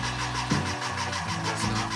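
A Porsche 914's rebuilt VW Type IV 2056 engine cranks with a rhythmic, churning starter sound that keeps turning over without catching, loud and close.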